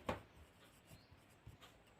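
A pen scratches across paper in a few short, faint strokes at close range in a quiet setting, while notes are written out for a class 8 history lesson.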